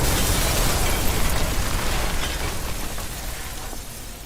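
Royalty-free explosion effect: a loud, broadband rumbling blast that sustains and slowly fades over several seconds, with no voices.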